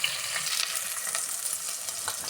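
Onions, green chillies and mint fry in hot oil in a pan, giving a steady, close, bright sizzle with faint crackles throughout, and no one speaks.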